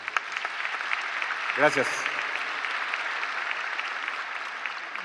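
Audience applause at a petroleum industry talk, a soft, continuous patter of clapping from a crowd, with a brief spoken word of thanks cutting in near the start.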